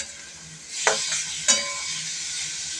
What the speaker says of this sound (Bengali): বাটারের মধ্যে আমি বয়েল চিকেন আর বয়েল সুইট কর্নটা আমি একটু নাড়াচাড়া করে নেব।